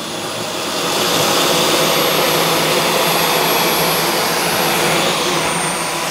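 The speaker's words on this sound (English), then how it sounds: "It is a precision vacuum cleaner when you come to hardwood floors." A Dyson V12 Detect Slim cordless stick vacuum runs steadily on a hardwood floor, a loud, continuous high-pitched whine and airflow hiss that swells up after the first second and holds without pause.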